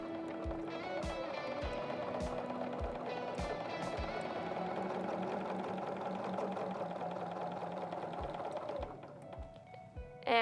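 A Bernina B 770 QE Plus sewing machine runs on foot control, a steady rapid mechanical whir with regular stitch clicks lasting several seconds before slowing and stopping near the end, close and clear with no talking.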